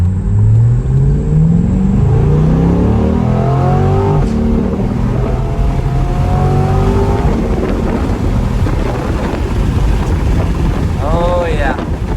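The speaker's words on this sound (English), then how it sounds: "I'm gonna put the windows down just so you could hear the V8 as well. And I'm gonna step on it a little bit" The V8 of a 495 hp Chevrolet C8 Corvette climbs through rising revs as the car accelerates on a highway, loud and close with wind rushing in through open windows, followed by a brief quicker rev sweep near the end.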